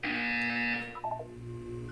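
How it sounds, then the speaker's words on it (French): An electronic tone chime from the video game Portal 2 sounds once as a steady, bright tone, then drops to a few softer blips over a low background hum. "Vous allez entendre une sonnerie."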